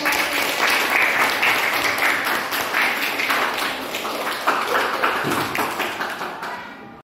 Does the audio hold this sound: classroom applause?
yes